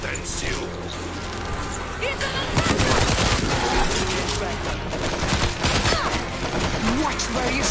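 Bursts of rapid gunfire rattle through the zombie shooter World War Z, dense and loud in the middle stretch, with players talking over the shooting.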